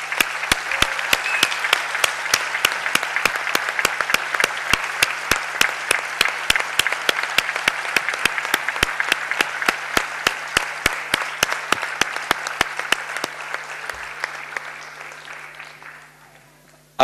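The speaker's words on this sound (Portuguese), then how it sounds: "Eu pedia para o Luís, que é o grande responsável pelas correntes de escrita, uma enorme salva de palmas que ele bem merece" Sustained crowd applause at the closing session of the 2015 Correntes d'Escritas literary festival in Póvoa de Varzim, a loud, dense clapping with sharp regular beats throughout that gradually thins and fades out near the end.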